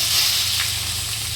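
Cumin seeds and chopped onion sizzle steadily in hot oil for an eggplant bharit, a loud, continuous close hiss with no voices.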